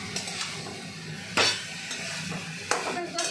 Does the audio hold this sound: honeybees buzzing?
no